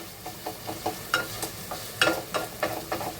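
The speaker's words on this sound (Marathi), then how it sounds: "हे बघा आपला कांदा मस्त शिजायला आलाय." Onions cooking in a pan, a soft sizzle under repeated stirring scrapes and taps that come at an irregular rhythm.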